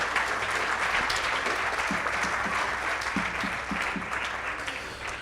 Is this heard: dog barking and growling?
no